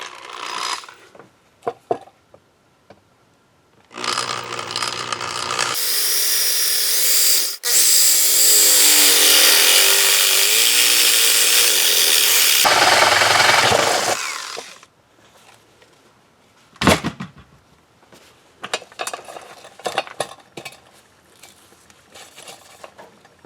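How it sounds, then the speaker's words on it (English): A power drill whines loudly for several seconds as it bores into a light fixture, starting and stopping, with handling clatter and clicks before and after. "that's the size hole we're going to drill"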